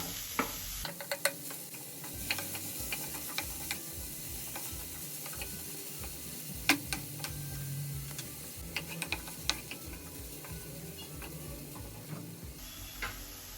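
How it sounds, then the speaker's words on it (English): Chopped carrots and translucent onions sauté in a pan for a mushroom momo filling, giving a steady low sizzle with scattered sharp clicks of a spatula scraping and stirring, no voices. "Now that the onions have become translucent, adding chopped carrots."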